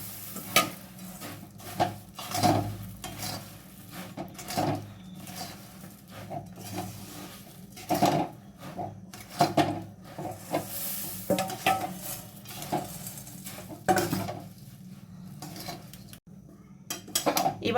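Puffed rice is stirred in a pan while making muri moa, with repeated scraping and clinking of a metal spoon against the pan over a soft sizzle, the strokes coming in an uneven rhythm.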